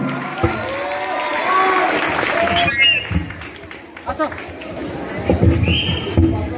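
Applause and crowd noise from the audience at an Oriya comedy show, mixed with voices and chatter over several seconds.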